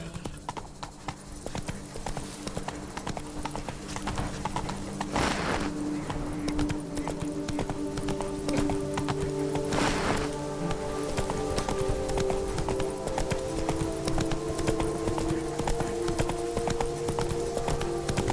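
Roach, a horse in The Witcher 3 video game, clip-clops steadily on hooves throughout, a continuous even rhythm under light rain-like ambience and faint game music.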